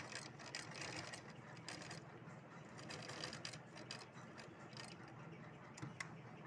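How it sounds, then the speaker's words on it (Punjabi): A sewing machine stitching slowly while hemming salwar or palazzo fabric, giving a soft continuous mechanical whirr with faint rhythmic ticking, fairly quiet and close, with no talking. "ਆਪਾਂ ਨੇ ਇਹ ਸਿਲਾਈ ਆਰਾਮ ਨਾਲ ਲਗਾਉਣੀ ਹੈ ਵੀ ਆਪਾਂ ਨੇ ਮਸ਼ੀਨ ਜ਼ਿਆਦਾ ਤੇਜ਼ ਨਹੀਂ ਕਰਨੀ ਹੈਗੀ"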